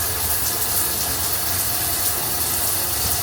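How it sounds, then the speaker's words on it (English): A steady, loud hiss of water pouring from an overhead rain shower head, just switched over from the handheld nozzle, broad and continuous with no pauses, close by and with no voices over it. "See that? That's your rain shower."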